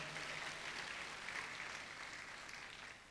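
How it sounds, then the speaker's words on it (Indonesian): A church congregation claps in praise to God during a sermon, a faint, even wash of applause from a distant crowd that continues for a few seconds without pause. "Tepuk tangan buat Tuhan kita."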